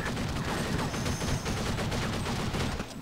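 Rapid machine gun fire from the Counter-Strike 1.6 zombie mod rattles in dense, continuous bursts, mixed with other game shots and clatter, loud and busy for about three seconds.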